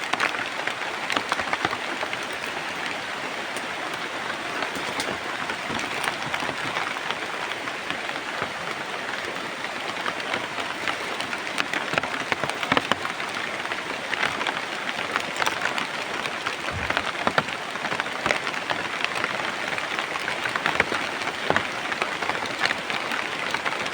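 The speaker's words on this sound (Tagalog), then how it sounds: "Grabe, sobrang lakas ng ulan dito." Heavy rain pours down steadily as a dense, constant hiss with scattered patter of drops hitting surfaces nearby. The downpour sounds loud and unbroken, with no voices.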